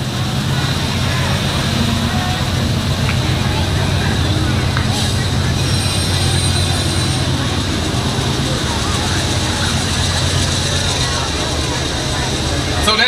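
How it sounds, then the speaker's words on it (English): A passing train sends a steady, loud rumble through an outdoor blues performance beside the tracks, a continuous roar that covers everything for the whole stretch. "The train's still a little louder than us."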